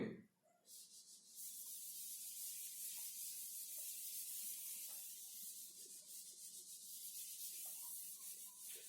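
A blackboard being rubbed clean with an eraser in a lecture room, a soft continuous hissing scrub that starts after a brief bump and keeps going for several seconds at low level.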